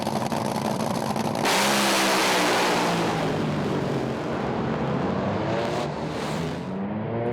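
A 400 Thunder Top Fuel dragster makes a solo record pass at Willowbank Raceway, its engine a loud, continuous raw roar that builds and holds for several seconds, then shifts in pitch as the car streaks away down the strip.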